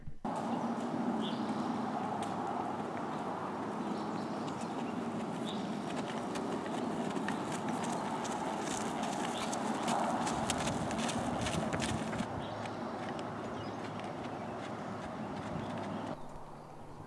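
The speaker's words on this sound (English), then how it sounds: "Now she kicks it up into a slightly faster pace. This is the trot, or trotting." A horse trotting with rider, a dense run of even clip-clop hoofbeats heard from a moderate distance over outdoor ambience, steady throughout.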